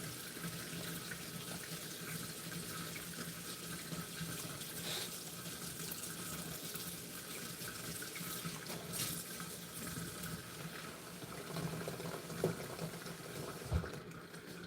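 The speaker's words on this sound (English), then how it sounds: "You can probably hear it draining." Sink water drains in a continuous soft rushing gurgle, steady and fairly faint throughout, with a couple of small clicks toward the end.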